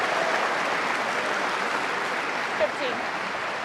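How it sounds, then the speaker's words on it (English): Snooker crowd at the World Grand Prix semi-final between Neil Robertson and Shaun Murphy, a soft continuous patter of applause rising from the arena, even and sustained, with faint commentary-like voice traces underneath. "Secondary applause from the audience suggests that this red to the right centre is on"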